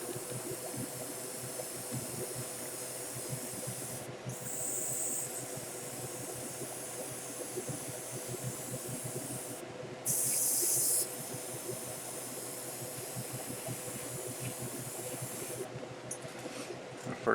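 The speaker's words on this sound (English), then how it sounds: "I'm going to go over the whole kit with a nice clear gloss coat" Short bursts of an airbrush spraying clear gloss coat over a plastic HGUC Dom Fünf model kit, heard as brief hissing puffs at intervals over a steady background hum.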